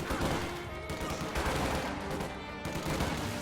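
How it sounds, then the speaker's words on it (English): Conscripts open fire in a video game battle, with dense, continuous volleys of rifle and machine-gun shots crackling loudly without pause and no voices. "Conscripts in the building can fire on him as he's retreating."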